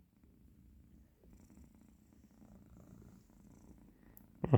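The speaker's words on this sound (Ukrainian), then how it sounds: "Потягує. мурчить." A cat purring softly and steadily up close for several seconds, ending with a brief louder rustle.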